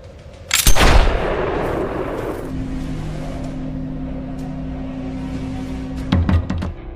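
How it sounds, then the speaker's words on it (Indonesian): A quick-draw pistol duel in the 2009 Lucky Luke western film, with a loud burst of gunfire near the start followed by a sustained rumbling hum and a second, softer burst near the end. "Sheriff Poker dan John pun lalu keluar untuk bertanding adu kecepatan menembak"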